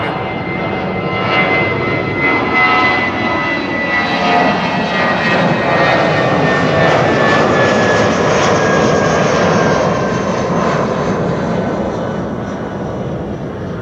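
An SAS airliner taking off from runway 24 at Schiphol, bound for Copenhagen, gives a loud, steady engine roar with whining tones that holds strongly throughout and eases slightly at the end.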